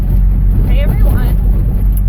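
Loud diesel engine of an old Dodge D250 truck with an exhaust leak rumbles in a heavy, continuous low drone, close by, while a person talks over it.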